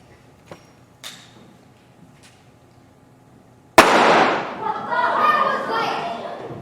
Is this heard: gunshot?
yes